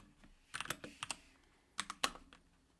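Bursts of typing on a computer keyboard, quick clustered keystrokes in two short flurries separated by a brief pause, close and fairly quiet with no voice.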